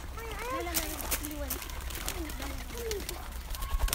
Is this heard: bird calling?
yes